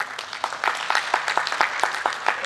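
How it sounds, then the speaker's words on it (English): A conference audience gives a round of applause, dense and steady clapping at close range for the whole stretch, with no voices over it. "Let's give a round of applause."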